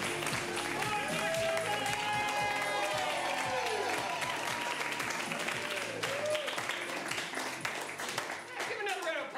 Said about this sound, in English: Give another round of applause for Vortex.